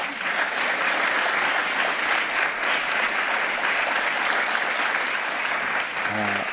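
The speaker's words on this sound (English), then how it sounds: "please join me in giving all of our guests a really huge round of applause" Audience applause for guests at a Google.org Accelerator GenAI demo day: a full room claps steadily and loudly throughout, with a voice starting up right at the end.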